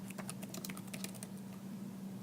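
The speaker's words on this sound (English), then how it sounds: "you're not typing, I am" Quick, light taps on a computer keyboard in a fast irregular run that fades out after about a second, over a low steady hum.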